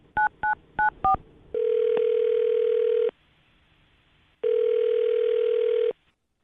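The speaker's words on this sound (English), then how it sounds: "I'm dialing this phone number right now" Telephone dialing followed by ringing: four quick keypad tones, then two long steady ring tones separated by a silent gap, clean and close with no talk.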